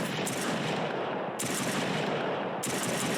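Rapid automatic gunfire from a weapon in an Unreal Engine 5 first-person shooter prototype rattles out in loud, dense bursts, with two brief gaps splitting the continuous volley.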